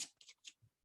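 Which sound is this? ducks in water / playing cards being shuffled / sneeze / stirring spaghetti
playing cards being shuffled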